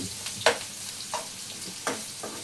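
Onions and green chillies fry in a pan, browning with a soft continuous sizzle broken by several sharp stirring scrapes, close and moderately loud, without any talking.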